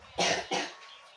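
A child coughs twice in quick succession, two close, loud, harsh bursts in a quiet room with no talking.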